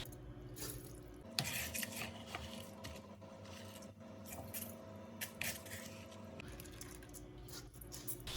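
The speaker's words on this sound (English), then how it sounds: "just add your rice immediately after washing inside your pot" Washed rice poured and squished into a pot for rice fufu, a steady wet rustling and sloshing with soft scraping and a few sharper knocks, close and moderately quiet with no talking.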